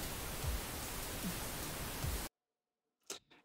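Broadband pink noise with no ducking applied in a music production mix fills the first two seconds at steady loudness, then cuts off abruptly, leaving two brief clicks.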